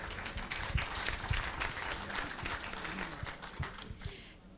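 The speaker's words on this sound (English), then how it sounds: "A big applause." Audience applause at a high-level intergenerational panel on African climate adaptation, steady dense clapping filling the room for several seconds before tapering off at the end.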